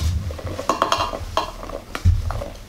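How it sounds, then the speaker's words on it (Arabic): Chocolate cake batter is stirred and mixed in a bowl, giving close, soft, repeated scraping and slapping strokes in an uneven rhythm, with no talking. "ونخلطو الخليط ديالنا بحال هكا"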